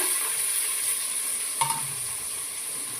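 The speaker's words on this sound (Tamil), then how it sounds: "வெங்காயம் சேர்த்துக்கலாங்க." Onions go into a frying pan with green chillies for biryani, giving a steady close sizzle with a brief stir and clink partway through.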